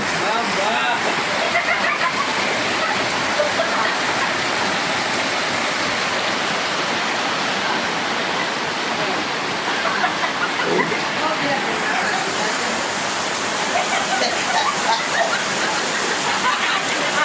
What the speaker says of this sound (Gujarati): વરસાદ જુઓ ભયાનક વરસાદ પડે.